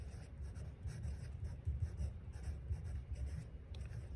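Pencil writing a sentence in a school grammar workbook, a steady close scratching of strokes on paper that runs continuously, alone without talk.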